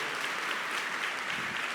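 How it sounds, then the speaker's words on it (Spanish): An audience gives a strong round of applause welcoming Alejandra Montejo and José Astubilca at an artificial intelligence event, with continuous, even clapping from a crowd throughout. "Voy a pedir un fuerte aplauso para Alejandra Montejo y a José Astubilca."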